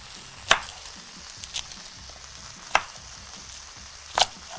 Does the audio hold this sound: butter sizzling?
yes